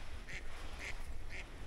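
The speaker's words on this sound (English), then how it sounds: "Don't go chasing that duck." A duck near a canal lock gives three evenly spaced quacks, fairly faint against an outdoor background hum.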